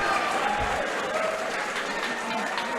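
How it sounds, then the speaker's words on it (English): A fight-night crowd applauds a winning boxer after a knockout, steady broad clapping with crowd noise throughout, and voices talking faintly underneath. "The crowd giving him a good big clap out."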